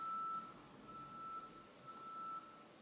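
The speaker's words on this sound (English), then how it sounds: "That's a really pretty loud beeping sound" A steady high-pitched electronic beep holds for a couple of seconds over quiet background noise, sounding faint and distant.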